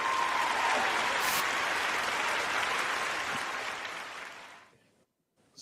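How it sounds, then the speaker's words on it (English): Canned applause sound effect played during an interview, a thick uniform wash of clapping and cheering that holds steady, then fades out abruptly near the end. "Give them a great big hand."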